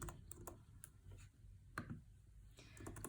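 Quiet clicking of keys on a computer keyboard as text is entered, a light irregular patter of taps heard faintly and close, with no talking.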